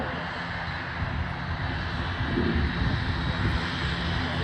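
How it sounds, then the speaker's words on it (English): An ATR-72 turboprop airliner backtracks along the runway to line up for takeoff, a steady propeller-engine drone heard from a distance that swells slightly midway, continuous and without speech. "So the ATR-72 backtracking to line up and take off"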